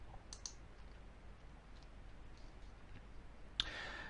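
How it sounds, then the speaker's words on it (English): A computer mouse clicks on a green on-screen button in a live trading platform: a pair of faint clicks near the start and one sharper click near the end over quiet room hiss. "we'll click on the green button here"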